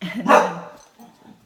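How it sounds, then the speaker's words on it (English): A pet dog barks loudly once near the start, followed by fainter whimpering sounds, with a person speaking briefly over it indoors. "that's my dog."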